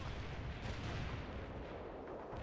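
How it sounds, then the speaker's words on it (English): Mortar strike artillery fire in the video game World in Conflict: a dense, continuous low rumble of blasts and booms, loud and sustained throughout with no separate gaps. "Zulu 9 are firing mortars at the target coordinates"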